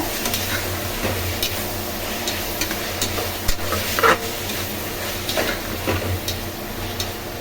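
Ginger garlic paste sautéing on low heat in a pan, a soft steady sizzle with scattered light clicks and scrapes of stirring, close by.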